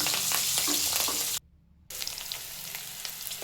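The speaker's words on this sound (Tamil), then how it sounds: "வெங்காயம் நல்லா வதங்கணும் கொஞ்சம்." Onions with curry leaves sautéing in a pan for a chicken gravy, giving a steady close sizzle and crackle that briefly drops out for about half a second before resuming.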